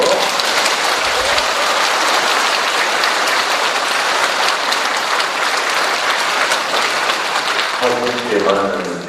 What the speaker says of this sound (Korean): 아주 뜨거운 박수로